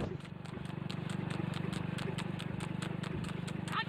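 Hooves of a newly trained horse clip-clop in a steady, rapid rhythm at close range, with a constant low rumble underneath and no talking.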